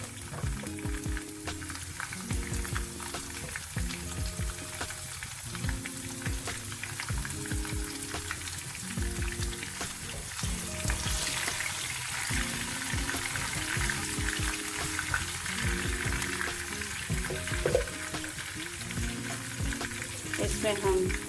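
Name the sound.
garlic and green chillies frying in pan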